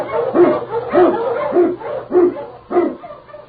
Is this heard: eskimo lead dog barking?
yes